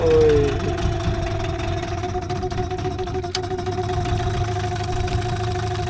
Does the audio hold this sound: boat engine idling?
yes